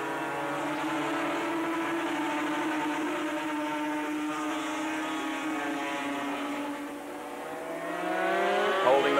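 250cc racing motorcycles howling past at Amaroo Park, a sustained high-pitched two-stroke engine wail holding steady and then dropping in pitch as the bikes pass, loud and fairly close, no speech.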